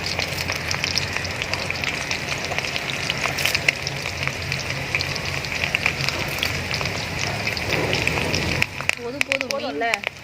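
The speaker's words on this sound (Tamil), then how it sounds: "கருவேப்பிலையை பிரித்து அப்படியே சரசரன்னு மலை சாரல் மாதிரி அந்த எண்ணெயில் தூவுங்க" Curry leaves tossed into hot oil with frying Nethili anchovy fish, giving a steady loud crackling sizzle throughout, with a voice speaking near the end.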